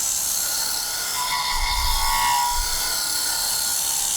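A whetstone grinder running at 2000 RPM sharpens a negative rake scraper, giving a steady, close, rushing hiss with a faint low rumble underneath.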